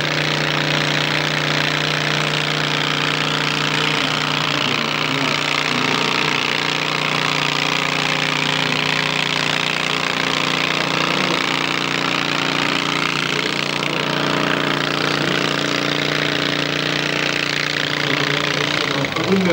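At a 2000 tractor-pulling event in Verl, Germany, a pulling vehicle's engine drones loudly and continuously with a rough mechanical rumble, while a commentator keeps talking over it.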